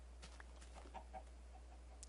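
Minecraft chicken in the FTB modpack clucking softly, a few short, faint clucks spread over a quiet background hum with no talking.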